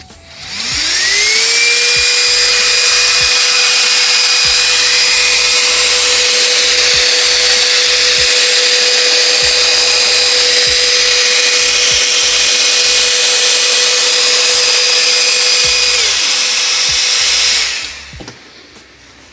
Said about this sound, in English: Let's power up these fans real quick.